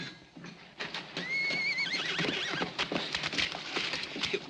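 A horse gives a loud, shrill whinny with a rising and falling squeal, with faint hoof clatter and scuffling in the background of a 1950 Western scene.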